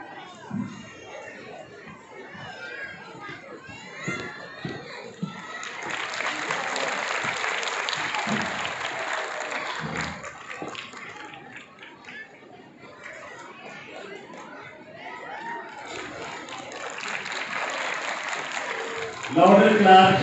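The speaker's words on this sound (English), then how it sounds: "Louder claps." Audience applause at a school annual day function, a broad wash of clapping that swells loud for several seconds, eases, then builds again near the end, with chatter and an announcer's voice between bursts.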